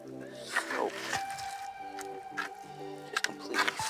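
Mushy, wet, rotten seed potatoes squish in soaked soil during a winter potato harvest, giving several close, soft squelches scattered across a few seconds.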